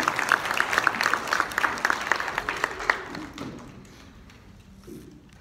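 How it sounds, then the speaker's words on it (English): Scattered audience applause for a forum panel, a modest room of people clapping distinctly for about three seconds before it fades away into quiet. "I'd like to do one more round of applause to our panel"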